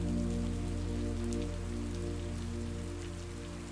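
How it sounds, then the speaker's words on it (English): Steady rain patters continuously on a surface, soft and even, with a low constant hum running beneath it and no voices. "You hear the rain outside begin to fall harder"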